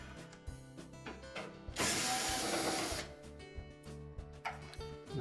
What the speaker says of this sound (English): Now next we'll remove 4 screws across the bottom,